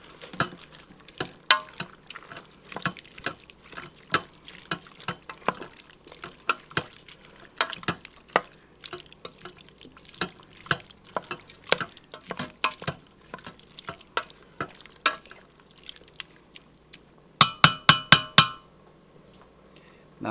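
Diced tomatoes are added and stirred into a chili of fifteen beans in a Cosori pressure cooker, wet clicks and scrapes of a spoon against the pot in an uneven rhythm, ending with a few sharp taps.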